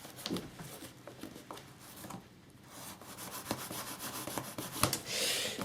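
Scraping, rasping strokes of a knife blade slicing open a cardboard box, with short bursts and pauses, close by and fairly quiet.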